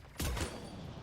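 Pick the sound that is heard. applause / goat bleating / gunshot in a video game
gunshot in a video game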